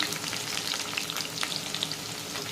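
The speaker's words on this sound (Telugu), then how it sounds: "ఆనియన్స్ వేసుకొని ఆనియన్స్ బాగా వేగనివ్వాలి" Onions fry in oil with curry leaves for an egg masala curry, a dense continuous sizzle with crackling pops throughout, loud and close, no voices.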